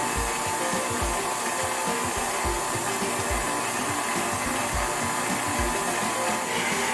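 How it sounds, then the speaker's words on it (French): A stand mixer running at first speed, kneading milk bread dough, gives a steady whirring motor drone with a regular low thumping beat as the dough turns in the bowl. "J'abaisse la tête de mon batteur et je pars à la première vitesse"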